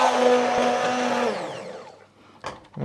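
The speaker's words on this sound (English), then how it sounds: "your submersible blender" A submersible blender whirs loudly as it purees seafood chowder, then winds down with a falling pitch and stops, followed by a couple of soft knocks.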